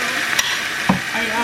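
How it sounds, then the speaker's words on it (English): Food is stirred in a frying pan while a vegan dinner cooks, giving a soft sizzle with a couple of sharp scrapes of the utensil against the pan, close and fairly loud. "Stir, stir, stir."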